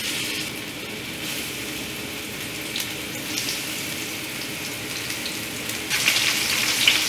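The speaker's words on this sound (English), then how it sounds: "And then we'll just start frying our fish." Fish fries in hot oil in a pan for gluten-free fish tacos, a steady close sizzle and hiss that grows louder near the end.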